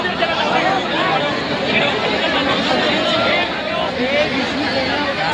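Dense crowd chatter and hubbub from a packed gathering at a state-level event, many voices blending into a steady, loud babble with no single speaker standing out.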